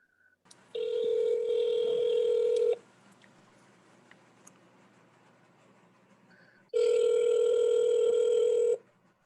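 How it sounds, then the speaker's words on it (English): An outgoing call to a cell phone placed from a committee meeting: two long, steady ringback tones, loud and clear, separated by a quiet stretch of faint room noise. "I'm going to call you on your cell phone and I'll put you on speaker so at least everybody can hear you."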